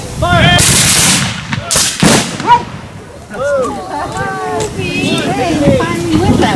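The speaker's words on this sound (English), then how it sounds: "Second platoon, ready! Aim! Elevate! Fire!" Civil War reenactment platoon firing musket volleys at an annual Civil War weekend, sharp loud bursts near the start and around two seconds, followed by shouting voices and crowd noise.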